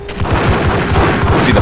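Dual Beretta pistols in the Max Payne video game fire in a fast, dense stream of loud, close shots, overlapping pops that keep hammering through the whole burst.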